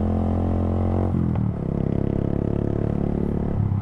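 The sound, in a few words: Suzuki Gixxer 155 with Akrapovic full exhaust, popping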